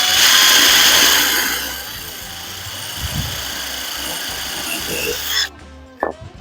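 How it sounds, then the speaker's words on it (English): A power drill bores a hole through plywood, its loud whirring steady for several seconds before cutting off abruptly, followed by a couple of faint knocks near the end. "So I just put a drill bit on. We'll see how it works."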